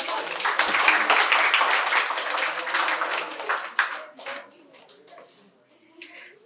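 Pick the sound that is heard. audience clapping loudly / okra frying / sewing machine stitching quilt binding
audience clapping loudly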